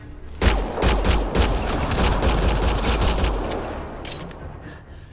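Gunfire in Mass Effect Andromeda, a dense, loud volley of overlapping shots and sharp cracks rattling continuously for several seconds before tapering off.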